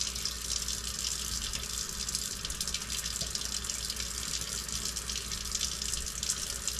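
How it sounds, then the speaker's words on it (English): Steady stream of water running from a tap into a sink, constant and close, with no pauses or voices throughout. "run the water for about a minute."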